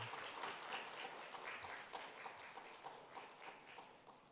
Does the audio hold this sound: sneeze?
no